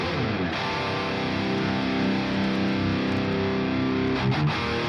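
Guitar through the crunch (orange) channel of a Bogren Digital Ampknob amp simulator: a thick, distorted chord rings out and sustains for nearly five seconds, with a brief restrike near the end and no voices.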